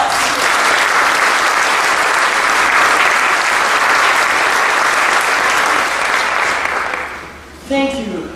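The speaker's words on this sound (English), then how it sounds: "Give them a big round of applause." A hall audience at a holiday concert claps loudly and continuously, the applause fading near the end before a voice begins speaking.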